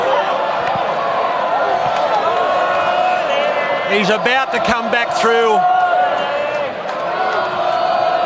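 A large racecourse crowd in the mounting yard chanting for jockey Damien Oliver after his final ride, winning on Munhamek. The loud, rhythmic chant swells midway under someone speaking close by.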